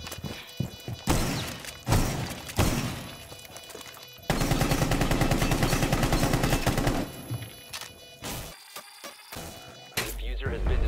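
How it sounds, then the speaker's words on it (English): Rainbow Six Siege match ending as the defuser is destroyed: loud bursts of gunfire and heavy thuds, then a sustained dense rattle of shots and impact noise, easing into sparser hits and a final burst. "diffuser has been destroyed"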